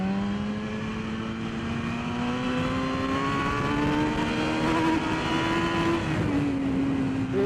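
A racing motorcycle on Bridgestone Battlax V02 slicks revs hard on track under full throttle, its loud, steady engine note climbing in pitch and then dipping briefly near the end as the rider brakes.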